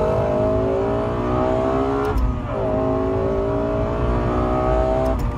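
A 2012 Lexus LFA supercar engine revving hard, climbing twice with a brief break between the rises, loud and close with intake surge clearly present.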